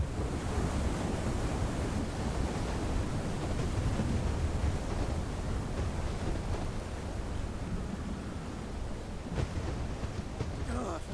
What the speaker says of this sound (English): being battered by enormous waves. The wind was howling all around me